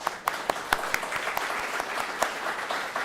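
An audience at a small show-and-share meeting claps for a colleague, a steady patter of applause with a few sharper individual claps standing out, fairly faint and alone.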